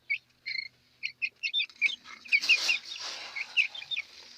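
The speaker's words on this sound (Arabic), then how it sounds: "انا اول مره بصراحه اجيب الفراخ اللي هي السيسو ديت" Sasso chickens on a rooftop give a run of short, bright clucks, separate at first and then quicker and overlapping. The birds sound close and loud, with no talk over them.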